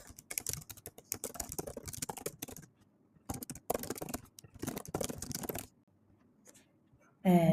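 Rapid clattering keystrokes on a computer keyboard come in close bursts separated by short pauses, ending with a louder sound at the very end.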